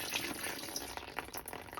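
Water runs from a tap into a container, a faint, steady hiss and splash with small bright bubbling notes and no voices.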